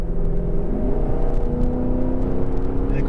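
A 2018 Lexus LC 500 drives with its V8 engine producing a loud, steady, close rumbling drone and whir, holding a sustained low growl with slight pitch shifts from inside the car.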